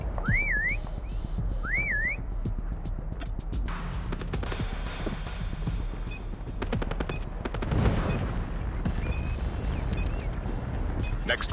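Two short rising whistle calls sound near the start of a Call of Duty prop hunt round, followed by bursts of gunfire and busy game noise, with some talk mixed in.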